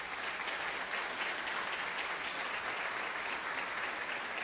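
A church congregation claps together in a dense, even wash of applause that holds steady for a few seconds, fairly distant and without any speech on top.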